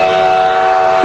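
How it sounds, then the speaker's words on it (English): Durango and Silverton steam engine 466 sounds a steady, loud whistle as it approaches, a sustained tonal blast filling the whole moment. "The train is coming."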